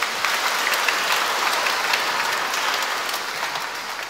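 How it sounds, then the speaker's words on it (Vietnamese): Steady applause from a church congregation during a First Communion Mass, many hands clapping continuously at moderate volume for several seconds. "bằng một tràng pháo tay thật là nồng nhiệt"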